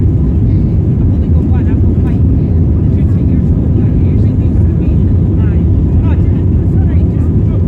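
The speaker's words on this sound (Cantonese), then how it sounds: "我哋開始起飛啦！" An airplane takes off on a flight to Canada, its engines producing a loud, steady, unbroken roar that fills the whole stretch, with faint voices barely showing beneath.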